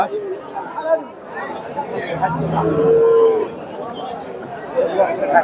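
A dairy cow lets out a single drawn-out moo at a busy cattle market, mid-distance, while people chatter and talk nearby throughout.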